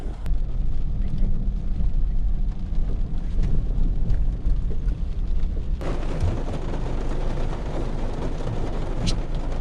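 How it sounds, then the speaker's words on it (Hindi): Heavy rain falls during an off-road drive in an Isuzu MU-X 4x4 SUV in two-wheel drive, a constant dense hiss over deep rumble, growing brighter and more intense partway through. "तेज बारिश हुई है।"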